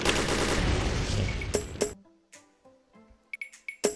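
Gunfire in the video game XSHOT, a dense loud stretch followed by separate sharp shotgun blasts with clicks and pauses between them, no talk.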